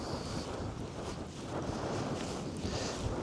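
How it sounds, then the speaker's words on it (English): Gusty west wind rumbles and buffets the microphone continuously outdoors, a low, rough roar with no voices. "there's a wind just blowing in from the west"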